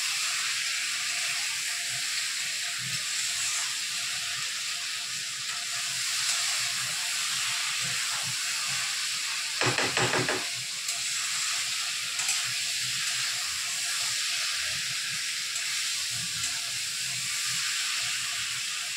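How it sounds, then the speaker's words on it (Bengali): Pieces of pabda fish fry in hot oil with a steady, loud hiss and crackle throughout, plus scattered sharp pops of spattering and a brief stronger burst of sizzle near the middle. "একটা দেওয়ার সাথে সাথে যেভাবে তেল ছিটছে"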